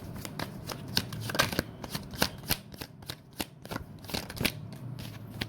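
Tarot cards are shuffled by hand in rapid bursts of crisp flicking riffles, close and fairly quiet, with brief pauses between runs.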